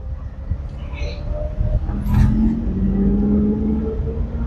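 A car accelerating during a driving lesson on an uphill incline, its engine rising into a steady, fairly loud drone that holds through to the end.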